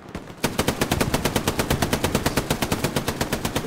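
Sustained automatic machine gun fire in the World War II shooter game Hell Let Loose, a rapid, steady burst of loud, close shots starting after a brief quiet moment and continuing without pause.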